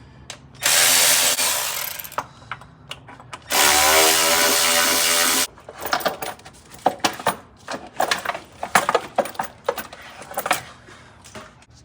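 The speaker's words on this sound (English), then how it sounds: "We're going to be removing that with an 8mm socket." Ratchet driving an 8mm socket to remove valve cover bolts on a Ford 6.2L engine: two loud sustained bursts of rapid clicking, then a run of sharper uneven clicks and taps, close up with no talking.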